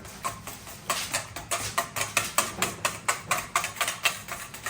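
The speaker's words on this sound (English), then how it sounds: "So now I've just got a whisk, and we'll get this whisk together." A whisk beating BBQ sauce, an Alabama white sauce, in a bowl, producing a fast, regular series of close scraping clicks and swishes that repeat about four times a second with no talking.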